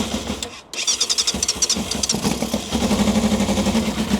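Barn-find Yamaha FZR 600R motorcycle engine cranking, then catching and running roughly on choke, a loud, close, uneven rapid putter that steadies into a rough idle.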